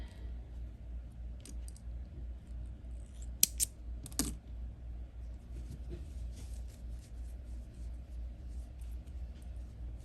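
Scissors snip crochet yarn twice in quick succession, with crisp, quiet cuts over a low background hum.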